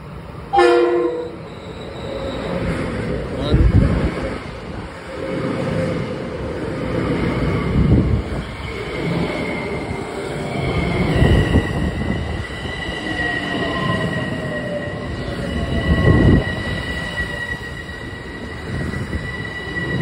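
A packed twelve-car M7A passenger train rolls along the rails near Crestwood with rumbling, rhythmic wheel thumps and long metallic squeals ringing over the top, close and fairly loud, with no talking.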